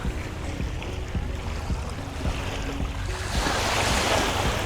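Ocean surf rolls onto a white-sand beach at high tide in the Seychelles, a steady close wash of breaking waves with wind buffeting the microphone and a swelling surge toward the end.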